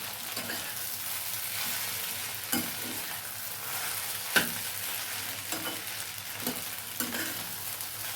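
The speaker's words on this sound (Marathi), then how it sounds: "आता हे छान परतून घ्यायचे आपल्याला छान हलवायचे" Sabudana khichdi with potato being stirred and sautéed in a pan: a steady sizzle runs throughout, with a few sharper scrapes of the spoon against the pan rising above it.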